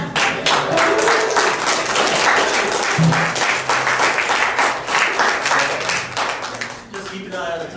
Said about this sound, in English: You guys want to give him some energy and a round of applause?